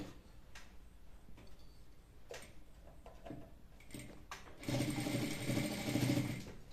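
A sewing machine stitches a shirt cuff placket, quiet mechanical ticks and light handling at first, then a sustained louder run of stitching near the end.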